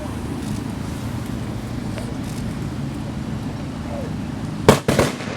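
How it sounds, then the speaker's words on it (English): At an outdoor Veterans Day observance, a ceremonial firing detail fires a rifle volley: two sharp, loud cracks in quick succession near the end, over a steady background of wind and ambient crowd noise. "Prepare to fire a volley in honor of our departed comrades."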